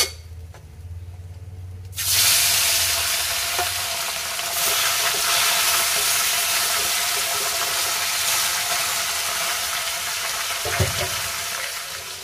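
Rohu fish pieces hit hot oil after a quiet start, erupting into a loud, close, sustained sizzle that stays strong and steady throughout, with a brief clatter near the end.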